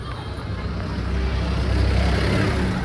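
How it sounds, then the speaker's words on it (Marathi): Vehicles climbing the road up the hills at Tirupati, a steady broadband engine and road roar that grows slightly louder, with no clear talk over it. "इथनं गाड्या बिड्या सगळ्या वर जातात बघा."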